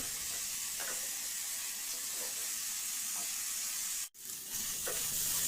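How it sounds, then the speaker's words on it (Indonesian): Ground spice paste with bruised galangal and bay leaves fries in a pan with a steady loud sizzle and hiss, broken by faint stirring scrapes and a sudden brief dip in the sizzle near the end. "Tumis sampai airnya menyusut, bumbu kering dan matang"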